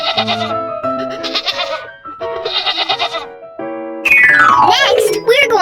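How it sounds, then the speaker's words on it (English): A goat bleats several times in a children's alphabet lesson. The short, bright bleats come in bursts, then one longer, louder, wavering bleat ends the run. "goat."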